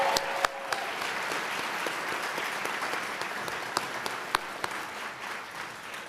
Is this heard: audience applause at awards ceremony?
yes